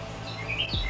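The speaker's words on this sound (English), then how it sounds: "You can hear the birds." Birds chirp outside in a few short, bright tweets over a steady low hum, fairly close and clear with no talking.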